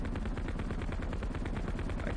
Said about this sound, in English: And we are taking fire now.